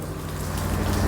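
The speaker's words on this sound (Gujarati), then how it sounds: "વરસાદ તો અત્યારે છે ને માપે માપે ચાલુ છે" Light rain falls in a steady patter, an even wash of drops on a surface close by.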